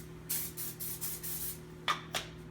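Olive oil cooking spray from a can misted onto a George Foreman 8-serving grill in a few short hissing bursts, close and clear, with brief pauses between sprays and no talk.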